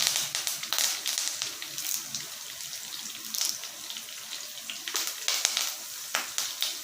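Curry leaves crackle and sizzle in hot oil in a pan while preparing a ridge gourd kadaiyal, with bursts of sharp spattering and a steady frying hiss, close and moderately loud, no talking.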